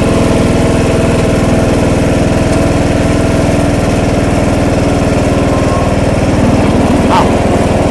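A John Deere lawn tractor engine drones loud and steady at close range as the machine drives along, an unbroken mechanical hum with no pauses.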